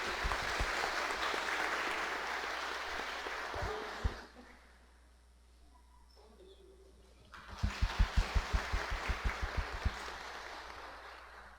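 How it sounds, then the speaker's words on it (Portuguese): Congregation clapping inside a church during Sunday Mass, a sustained round of applause that dies down to near quiet, then rises again with individual sharp claps standing out, with no talking over it. "Uma salva de palmas para eles."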